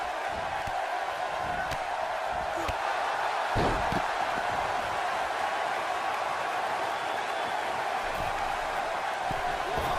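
A steady arena crowd roars in WWE 2K19 wrestling, a constant dense murmur of cheering filling the background with a couple of faint thuds.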